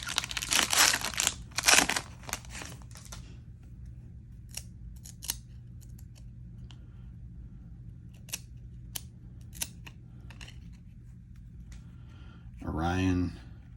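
A foil 1994 Skybox DC Master Series trading card pack is opened, with loud crinkling and tearing bursts at the start, then scattered card-handling clicks and rustles, and a voice briefly at the end.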